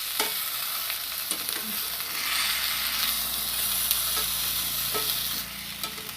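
Brinjal pieces sauté in oil over a low flame, giving a steady soft sizzle with occasional scraping stirs of a spatula, close and continuous with no one talking.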